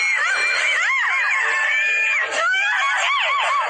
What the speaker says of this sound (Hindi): प्रत्यक्षा चीखने चिल्लाने की पूरी कोशिश कर रही थी